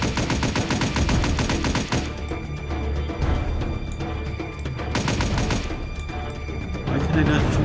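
Rapid enemy gunfire from a mobile shooter game on Android, a dense, loud stream of shots layered over game music and effects, with a voice talking alongside.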